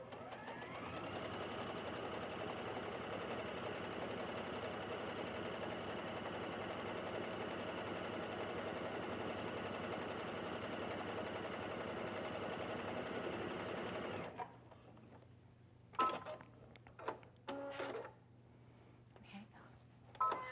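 A sewing machine runs steadily in a long continuous straight stitch around a circle appliqué, loud and close, then stops abruptly and gives way to brief handling clicks and rustles.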